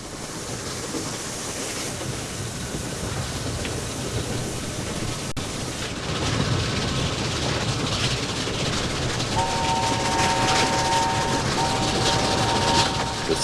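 A steam train runs along the Settle and Carlisle railway high above Dent Dale with a steady, rushing rumble that swells midway, and a long whistle-like tone sounds near the end.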